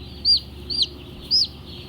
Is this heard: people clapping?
no